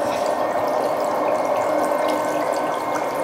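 Feet slip into a warm home pedicure foot bath, giving a steady churning, bubbling water noise with a faint mechanical rattle, close by and constant with no speech.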